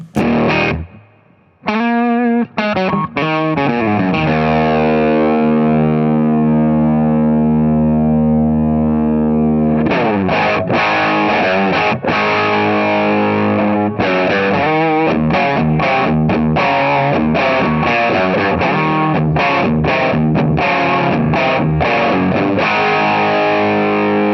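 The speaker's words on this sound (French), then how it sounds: "La reverb à plaque, ça me paraît un peu balèze quand même." An electric guitar runs through a distorted pedalboard chain with heavy plate reverb, chasing a brown sound: a few picked notes ring out and decay, then a loud, dense run of rhythmic chugging chords follows.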